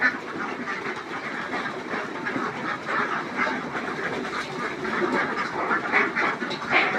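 A flock of farm ducks quacks steadily and busily while eating feed, with dense overlapping calls close by throughout and no speech.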